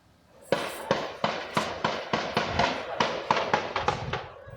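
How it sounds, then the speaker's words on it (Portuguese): A rapid string of sharp, cracking rifle gunshots, about a dozen in irregular bursts, sounding somewhat distant with no other sounds between them. "Tiros de fuzil disparados por traficantes."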